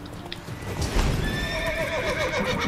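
A horse in The Witcher 3 video game whinnies in a clear rising neigh over a steady clatter of hooves, the clip-clop running close and continuous beneath it.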